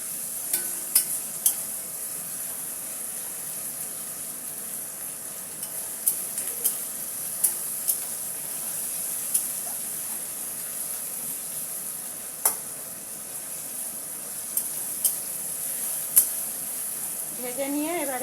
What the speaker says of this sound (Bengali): এগুলো একটু ভালো করে ভেজে নেব। ভালো করে না ভাজলে পাতাগুলো খাওয়া যাবে না।